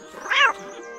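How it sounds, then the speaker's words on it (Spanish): A single short cat meow sound effect from a Spanish audiobook of Alice in Wonderland, marking the Cheshire Cat, clear and close against a quiet background. "el gato Chester apareció sentado en una rama de un árbol cercano"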